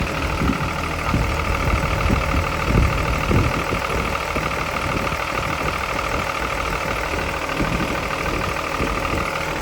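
The six-cylinder engine of a Hitachi EX200-2 excavator runs at a steady idle, a loud, continuous low rumble with a rough mechanical clatter throughout and no talk.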